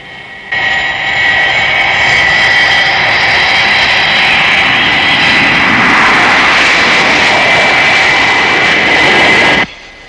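A jet aircraft, presented as a Thunderbirds-style effect, takes off with a loud, sustained roar and high whine that starts abruptly, holds steady for about nine seconds, then cuts off sharply.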